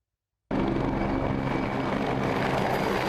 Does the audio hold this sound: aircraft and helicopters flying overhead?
yes